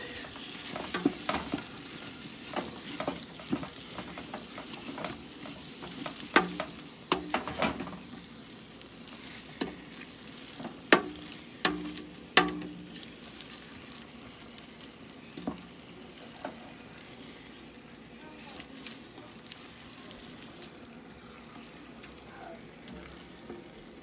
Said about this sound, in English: I added my sausage. I'm gonna stir it